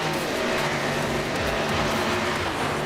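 NASCAR stock cars on track at Daytona in the iRacing sim, a dense, continuous roar of several engines droning together at high speed, loud and steady with shifting engine tones.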